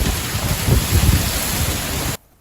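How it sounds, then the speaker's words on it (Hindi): Heavy monsoon rain pours down in Ranchi, a dense, loud, steady roar of drops hitting surfaces that cuts off abruptly near the end. "आप देख सकते हैं हमारे पीछे कि झमाझम बारिश जो है वो रांची में हो रही है।"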